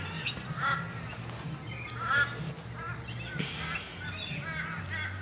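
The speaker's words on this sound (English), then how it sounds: "That's a young currawong." A young currawong, a rainforest bird whose eye has not yet turned fully yellow, gives several short calls at moderate distance, repeated irregularly over a low background hum.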